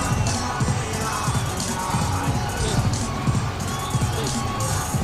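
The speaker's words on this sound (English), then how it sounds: "The crowd's loving it." A cricket crowd at an under-19 match in Brisbane cheers and roars continuously, a broad distant wash of voices with rhythmic surges, after a big six.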